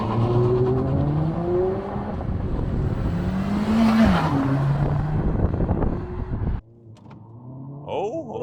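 A manual Honda Civic Si sedan with a 1.5-liter engine and 200 horsepower accelerates hard, its engine note climbing steadily through the revs before cutting off abruptly after a gear change. Loud and close, heard from inside the cabin.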